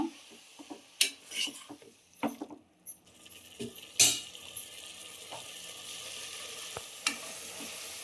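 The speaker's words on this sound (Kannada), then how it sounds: "ಈಗ ಸ್ವಲ್ಪ ಎಣ್ಣೆಲ್ಲ ಚೆನ್ನಾಗಿ ಉದ್ಕೋಬೇಕು ಮೆಂತ್ಯ ಸೊಪ್ಪು" Fenugreek leaves being stirred in hot oil in a pan for methi pulao, with soft sizzling under irregular clanks and scrapes of a spoon against the pan, close and without talk.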